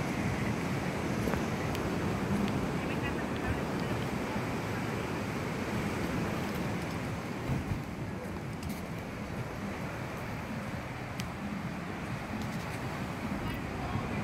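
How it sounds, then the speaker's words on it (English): Surf washing ashore on Herradura Beach on a fine day, a steady broadband roar of breaking waves with wind buffeting the microphone, continuous and fairly loud throughout with no clear individual crashes. "Nice day for the beach."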